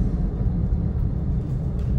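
A steady low rumble from inside a moving car, the engine and road noise droning evenly and fairly loudly throughout with no voices.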